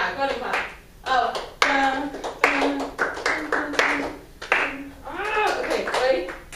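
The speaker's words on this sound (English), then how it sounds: "yeah, go ahead and clap." A group of people clapping their hands in a few short bursts, near and fairly loud, with talking in between and over the claps.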